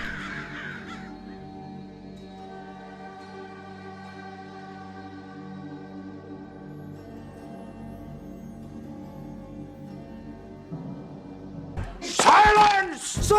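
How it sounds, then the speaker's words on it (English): Crows cawing outdoors, a short burst of harsh calls at the start and a louder flurry near the end, with a steady tonal drone and sound in between. "when I go outside, the crows follow me around,"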